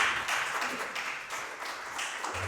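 Church congregation giving a round of applause to God at the close of a Spanish-language service, steady moderate clapping from many hands filling the short stretch without a clear voice over it.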